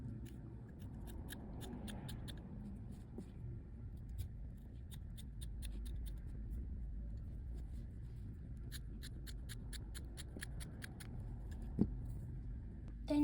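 Scissors cutting a square from a cotton t-shirt, a series of faint, quick snips repeating over a steady low background hum, close by with no talking.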